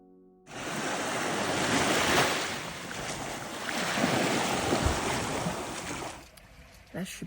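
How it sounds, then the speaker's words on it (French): Waves wash over a small-pebble beach on Spain's east coast, a loud close roar of surf with swelling and receding surges, some wind rumble, ending abruptly into quieter background. "Nous allons dormir avec le bruit des petits galets et des vagues."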